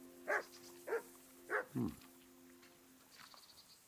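Four sharp dog barks from a medieval village in the game Kingdom Come: Deliverance, spaced about half a second apart over a steady low hum, the last one deeper and fading into quiet ambience.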